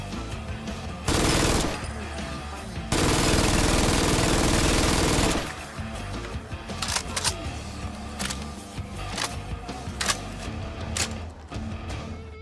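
MG42 machine gun in a modded Fallout 4 firing two bursts, a short one and a longer sustained roar of rapid fire, followed by scattered mechanical clicks and clatter.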